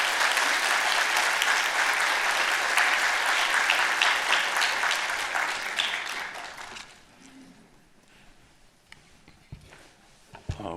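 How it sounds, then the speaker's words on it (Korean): A church congregation at a Korean Sunday worship service in Irvine gives loud, dense applause to welcome a guest pastor, holding steady for about six seconds before tapering off into a quiet room with a few scattered sounds. "큰 박수로 환영하고 맞이하겠습니다"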